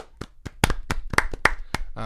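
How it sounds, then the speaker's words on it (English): A handful of people clap in a small, brief round of applause, the sharp hand claps spaced and uneven rather than a dense roar, close to the microphone with no one talking over them. "We give a little round of applause."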